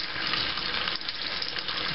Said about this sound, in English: We want to do it for the hot and the cold water.